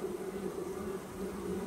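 Honeybees buzzing at the hive entrance, a faint continuous drone of many bees, steady and close with no voices.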